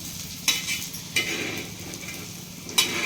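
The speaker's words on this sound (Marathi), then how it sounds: "हे सगळं हळूहळू असं छान भाजून घ्या" Dry spices, coconut, onion and green chillies rustle and crackle softly as they roast in a hot pan, with a few sharp scrapes of a spatula against the metal.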